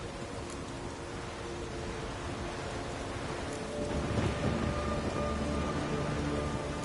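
Steady rain with a rumble of thunder in a thunderstorm from the video game The Witcher 3, a constant wash that swells louder partway through.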